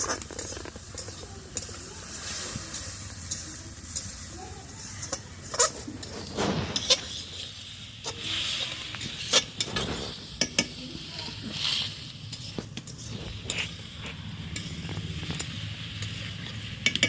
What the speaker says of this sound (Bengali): মাংস ভাজা হয়েছে।